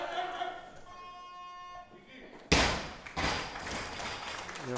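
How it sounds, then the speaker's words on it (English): Heavy booming thuds of barbells dropped on a neighbouring lifting platform during a concurrent Masters weightlifting event, sudden and loud after a quieter stretch, with a voice talking over it. "You'll hear a fair bit of booming happening on the other platform because we have a concurrent Masters event happening at the same time."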